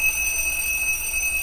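A continuous, shrill electronic alarm clock tone rings steadily without a break inside a haunted house in a horror video game, with a low hum beneath it.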